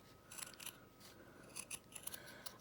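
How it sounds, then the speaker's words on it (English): Scissors snip through scrap fabric while ATCs and wallets are cut out for slow stitching, giving a series of close, crisp blade snips in short bursts over a quiet room. "I'm cutting them out. I'm just cutting them around."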